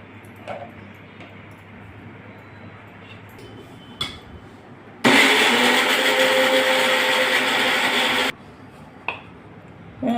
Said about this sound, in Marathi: आता आपण खोबर पण बारीक करून घेत आहोत